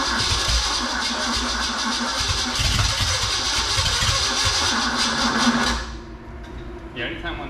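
A 1953 International IHC R-110 pickup converted to a gasser cranks hard and loud, then catches and runs before dropping off near the end, with someone talking over the noise.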